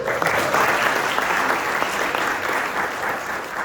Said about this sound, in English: Please give a round of applause to Michelle Sjogren for putting this all together